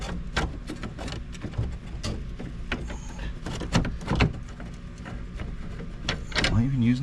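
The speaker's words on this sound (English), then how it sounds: "Let me get a screwdriver and we're gonna put our screws in that." A screwdriver turns screws into a homemade music project, giving irregular close clicks, ratcheting scrapes and knocks, quiet throughout.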